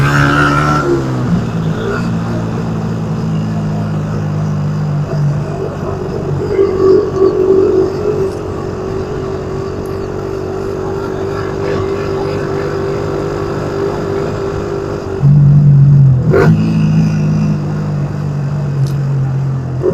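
Motorcycle ride captured from a microphone inside the rider's helmet: a steady engine drone with wind rumble, rising briefly around the middle and again near the end as the engine revs harder.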